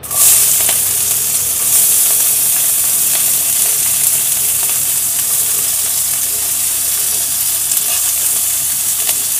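Onions frying in hot oil with spices for a Chettinad vegetable dish, a steady loud sizzle with a sharp burst near the start and stirring throughout, no voices.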